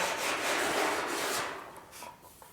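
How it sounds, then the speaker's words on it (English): Steady dry scraping of an old wooden block sanding a car door's metal edge, a rough rubbing that holds firm then tapers off and grows fainter near the end. "just using a old block of wood here to sand"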